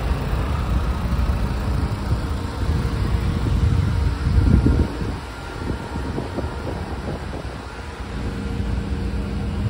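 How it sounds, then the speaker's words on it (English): Ford gasoline engine running on a Champion-bodied mobile office bus, a steady low rumble throughout, idling evenly with a faint breathy wind-like wash over it. "Quiet Ford gasoline engine."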